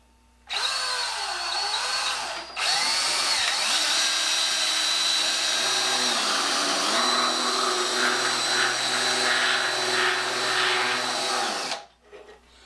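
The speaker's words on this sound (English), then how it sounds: "it wants to cut off to the right just because that's the way the drill bit rotates" A power drill with a router-like toothed bit whines loudly, cutting steadily into a tool rest for a Stanley No. 8 plane, with brief pitch dips under load before stopping.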